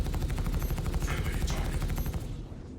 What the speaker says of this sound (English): This is where the first shots start getting fired